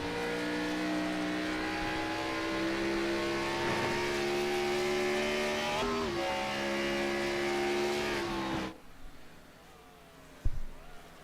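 Race car in a racing video game at Road America, engine holding a loud, steady droning pitch at high revs, then dropping away sharply, followed by a short thump.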